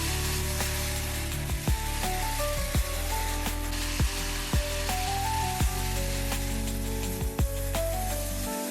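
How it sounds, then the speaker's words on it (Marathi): Chili fritters, coated in batter for fasting-day bhaji, bubbling in hot oil, a dense continuous close sizzle punctuated by sharp pops and spatters at irregular intervals, with no talk. "आता आपण ती तेलामध्ये सोडून घ्यायची."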